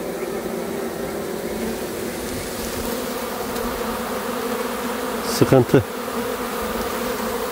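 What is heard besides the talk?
Italian honey bees buzzing around beehives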